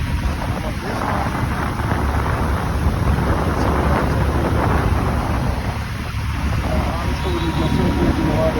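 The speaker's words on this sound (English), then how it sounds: "is just circulating water. They call it a swamp cooler." An evaporative swamp cooler with a sump pump recirculating water over its pads gives a steady, loud broadband whoosh of running water and airflow that holds level throughout, with no talk heard.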